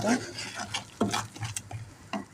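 Tomato sauce sautéing in a pan, stirred with scraping utensil strokes over a soft crackling sizzle, in short close bursts.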